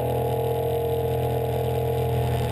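A Suzuki outboard engine on a Suzuki SR19 boat idles at about 1500 rpm, a steady, low, even hum throughout, a constant mechanical drone with no revving or changes in pitch.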